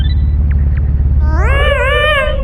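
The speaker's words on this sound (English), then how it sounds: "Let's see what happens when you use the cat effect." Cat meow in the video game Yume Nikki, a single drawn-out synthetic meow arriving midway over a low rumbling game drone, loud and close.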